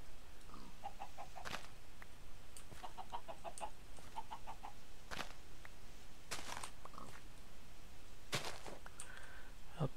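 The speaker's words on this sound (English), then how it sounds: "What are you, a smart aleck chicken?" Chickens in a farming video game give short, repeated clucks and chirps in small clusters, scattered across a steady background with occasional sharp clicks.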